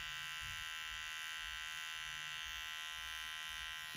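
Electric hair clippers buzz steadily and closely through a clipper-over-comb pass on a child's haircut, a continuous high whine with slight low shifts as the blade moves through the hair.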